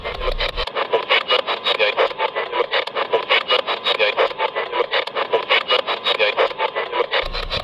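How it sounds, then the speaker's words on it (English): A rapid, steady back-and-forth rasping, like a saw cutting wood, repeats loudly and evenly for several seconds with no voices, rather than the slow creak of a gate. "It's a gate."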